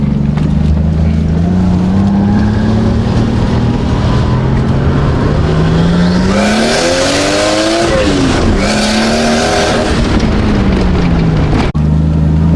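Nissan Cefiro A31 with an RB25DET turbo engine accelerating on the road, a loud, close engine note rising steadily in pitch, briefly dropping as it shifts, then climbing again with strong wind and road roar throughout.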